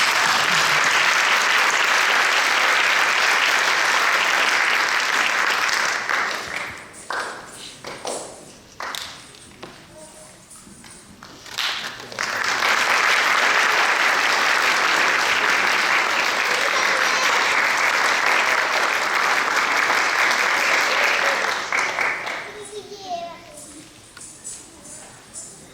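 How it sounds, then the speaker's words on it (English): Loud audience applause follows a classical Indian dance recital (arangetram), a long burst of clapping that drops away midway amid scattered taps and voices, then swells again before fading out. "So let's hear a big round of applause for Noopur."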